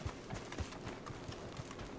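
Faint, quick hoof clip-clops from a horse in Red Dead Redemption 2, a short rhythmic trot of soft knocks without any speech.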